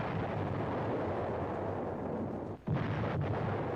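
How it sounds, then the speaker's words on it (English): A 155 mm artillery gun shelling a Japanese stronghold at Munda Point, heard as a dense, rumbling barrage of booming fire with one sharp brief gap, loud and continuous without talk. "the 155 lumbers through the jungle, guided by Seabees to the place where it can do the most good, shelling the vital Japanese stronghold on nearby Munda Point"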